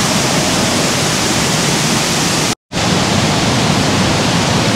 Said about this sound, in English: That's that waterfall.